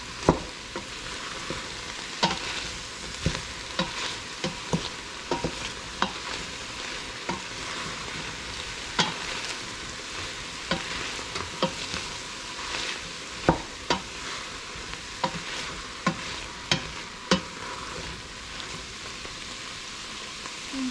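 Vegetables for carne guisada sauté in a pan with a soft, continuous sizzle and scattered light crackles and stirring taps, fairly faint and without talk.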